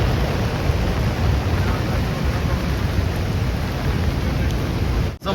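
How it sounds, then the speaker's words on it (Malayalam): Heavy monsoon rain pours steadily at Athirappilly waterfall, a loud, dense, even roar of falling water that continues unbroken until it cuts off abruptly near the end. "ഫുൾ മഴയാണ്. മഴയെന്ന് വെച്ചാൽ ഒരു രക്ഷയില്ലാത്ത മഴയാണ് നമ്മൾ ഇന്നുള്ളത്."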